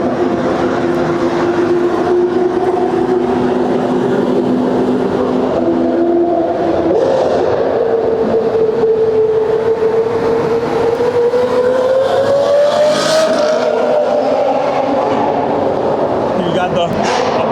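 A Ferrari sports car's engine sounds loud and close on a street in Japan, with a sustained tone that climbs and falls as it revs, over steady road rumble.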